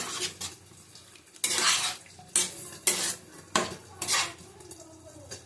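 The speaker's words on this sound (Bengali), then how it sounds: "আলু দিয়ে দিলাম, আবার কষিয়ে নেব।" Potatoes and jackfruit are stir-fried in a pan for a shrimp and jackfruit curry. A spatula scrapes and clatters against the pan in about six distinct strokes over a faint background sizzle.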